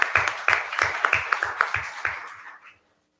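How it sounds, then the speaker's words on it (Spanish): Audience applause at a talk on menopause care in Mexico, a dense burst of many hands clapping for about two and a half seconds before it fades out to silence. "Le damos un fuerte aplauso, por favor."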